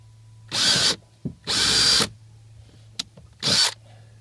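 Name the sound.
power drill drilling into a plastic fishing kayak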